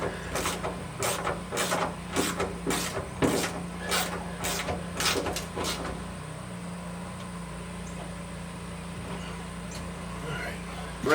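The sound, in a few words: drilling a starter hole for a bolt in a car trunk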